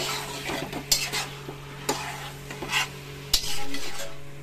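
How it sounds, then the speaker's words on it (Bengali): Chicken with ginger, garlic and vegetables sizzling in a pan while a utensil stirs and scrapes, giving several distinct clinks and knocks over a soft continuous fry, close up and without talk. "চিকেন দিয়ে, আদা রসুন দিয়ে, সবজি দিয়ে ভালো করে এটাকে আমি এখন একটু ভাজা ভাজা করে নেবো।"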